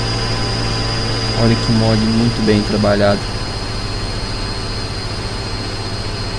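A tractor engine from a farming video game mod, strained through a strength test, drones at a steady low hum with a stable whine. Someone speaks over it throughout, and the engine tone rises and shifts briefly midway.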